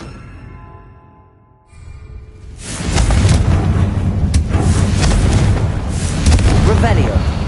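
A Confringo blasting spell from Hogwarts Legacy erupts after a quiet lull into a loud, sustained roaring explosion, with a voice over it.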